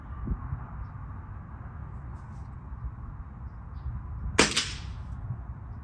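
A single sharp gunshot rings out at a target during squirrel hunting on public land. It is a loud, close crack with a brief tail over steady outdoor background noise.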